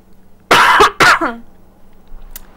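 A person coughs twice in quick succession, loud and close, with a short throat-clearing tail and no talk over it.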